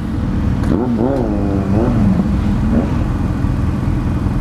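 Several BMW motorcycles, including an F800 Adventure, ride on a highway: a steady engine and road rumble runs throughout, with rising and falling engine tones passing close by, under a voice.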